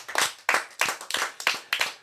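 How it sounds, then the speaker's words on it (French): Audience applause for a comedian on a French comedy show: rhythmic bursts of clapping that rise and fall in steady waves, fairly loud and with no talk over them. "On va applaudir notre fidèle sociétaire, c'est Monsieur Banquier."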